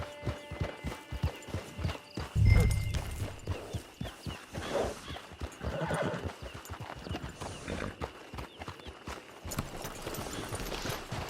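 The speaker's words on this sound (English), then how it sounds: "Get your horse." Horse hooves clip-clopping in Red Dead Redemption 2, with a neigh partway through and a low thump, soft and steady under light game ambience.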